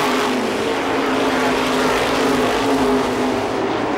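350 supermodified race cars roar around the oval at Lee USA Speedway, a loud continuous engine drone from several cars racing together without a break.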